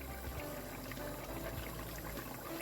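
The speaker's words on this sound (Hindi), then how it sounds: "इधर हमने ऑयल डाला है पतीली में" Cooking oil pours into a cooking pot before okra is fried, making a short, steady liquid trickle that is quiet and close, with no one talking.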